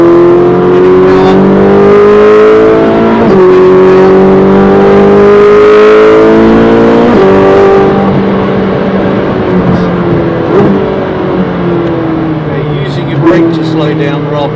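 A race car accelerates hard out of a corner on the wet Brands Hatch Indy circuit, its engine note rising steadily through the gears, loud and close throughout with a driver talking over it.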